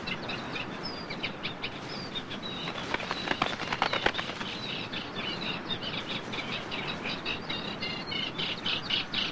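Small birds twitter and chirp steadily near a reed warbler's nest in a reedbed, with a busier burst of calls in the middle and a constant soft outdoor hiss underneath.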